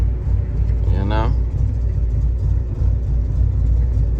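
A car rumbles along a road with an uneven, rough-running engine, a steady low drone throughout, and a brief voice over it early on.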